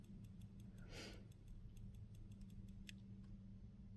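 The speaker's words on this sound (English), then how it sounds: "The green light means that it's sending out the signal that only the mice can hear. We hear a clicking noise." A battery-powered Loraffe ultrasonic under-hood rodent repeller gives off a steady run of faint, evenly spaced clicks over a low background hum.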